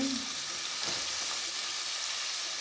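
Onion and green chilies frying in a pan for a carrot palya, a steady close sizzle and hiss running throughout with faint stirring and no talk.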